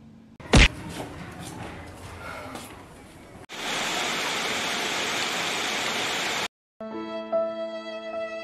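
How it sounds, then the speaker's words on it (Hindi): Steady rain falling, a broad hiss of drops that starts abruptly after a sharp knock, cuts out briefly, then gives way to tonal music. "अरे फिर से बारिश हो रही है,"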